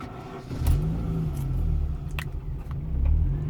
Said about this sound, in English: And when I try and start the car,